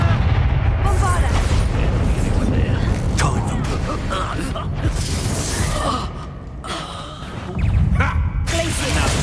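A Bombarda spell blasts in Hogwarts Legacy combat, a loud booming explosion amid a chaotic fight of spell impacts and rumbling bursts, with shouted incantations and voices over the din.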